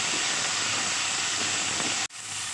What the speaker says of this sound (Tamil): தக்காளி சேர்த்து நல்லா வதக்கணும்